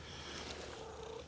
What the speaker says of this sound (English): Parkhead station cat.